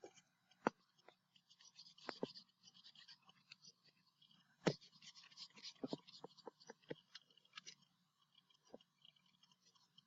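Writing is erased from a board, heard as scattered soft scratchy rubs and light taps, some in short quick bursts, close and fairly faint in a quiet room.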